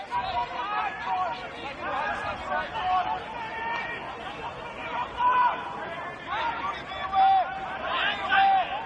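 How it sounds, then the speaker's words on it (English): A soccer crowd at an NPL Men's NSW match between Rockdale Ilinden FC and NWS Spirit FC groans after an overhead pass, a loose murmur of many voices rising and falling beneath a commentator's steady talk. "groans of the crowd tell the story"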